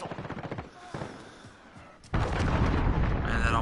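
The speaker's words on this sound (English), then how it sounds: "Enemy cruise missile." A cruise missile explosion in Call of Duty Modern Warfare: rapid gunshots at first fade into a lull, then a sudden heavy boom erupts and rolls on as a loud, sustained roar.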